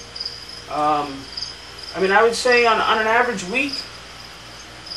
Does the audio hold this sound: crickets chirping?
yes